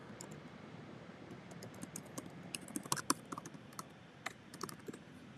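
Keys on a computer keyboard are tapped in quick, irregular bursts, faint and close, clustering into a busier flurry partway through before trailing off.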